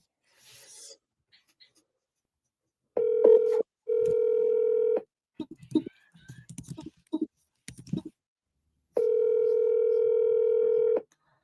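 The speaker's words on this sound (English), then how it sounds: "At the tone, please record your message." Voicemail recording beep on a forwarded phone call: three steady electronic tones, each roughly a second or two long, with brief clicks and rustling between them, clear and close with no talking.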